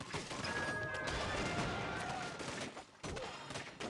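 A building in a strategy video game collapses with a loud crashing smash, dense rumbling debris, and a sharp cut near the end, set amid ongoing battle noise.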